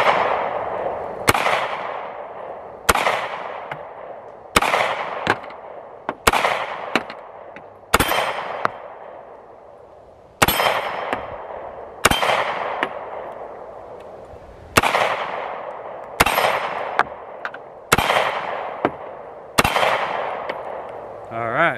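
A handgun fired one-handed at a range, roughly fifteen sharp, loud shots in an irregular sequence, some in quick pairs, each with a ringing decay.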